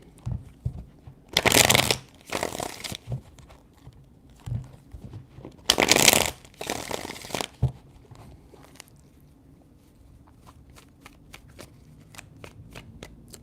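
Several bursts of a card deck being riffled and bridged, two long shuffles separated by pauses, followed by soft taps and card snaps near the mic.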